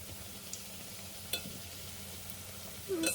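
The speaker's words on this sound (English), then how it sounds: "you are now watching our leavened bread boil in oil" Leavened bread fries in deep oil with a faint, steady sizzle, broken by a few soft clicks and a stirring scrape toward the end.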